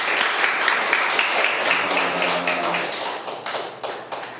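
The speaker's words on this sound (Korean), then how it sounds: "감사의 박수 드리겠습니다." A congregation gives thankful applause to a pastor during a church relocation thanksgiving service, with full, continuous clapping that thins toward the end and a faint low hum beneath.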